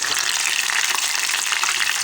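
Moringa flower beignets fry steadily in hot oil, a dense, even crackling sizzle that holds close and constant from start to finish with no voices.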